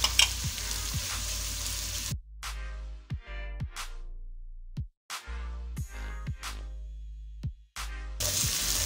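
Garlic ginger paste sizzling and frying in a pan for veg fried rice, with bursts of loud hissing between quieter gaps and a few sharp clinks of a spoon against the pan.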